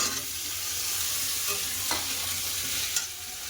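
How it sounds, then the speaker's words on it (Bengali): Pumpkin and potato pieces fry in hot oil in a pan, giving a constant close sizzling hiss with only a couple of faint utensil clicks and no speech. "মাছ ভাজা হয়ে গেছে এবার কুমড়ো আলু দিয়ে দেবো"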